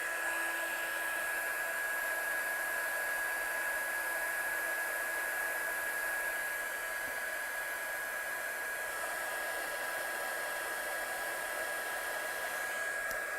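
A heat gun blows hot air steadily to set embossing powder on acetate, a constant whooshing hiss with a high whine running unchanged throughout, close and fairly loud, no voices.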